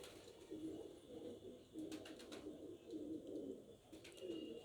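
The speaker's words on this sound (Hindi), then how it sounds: "बहुत आला क्लास का ये कबूतर है" A pigeon of a prized show breed in Bihar gives low, soft coos in repeated murmuring phrases, fairly quiet and close, with faint higher chirps overhead.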